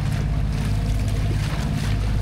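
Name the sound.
ocean waves growing stronger at Capones Island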